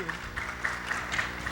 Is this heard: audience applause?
yes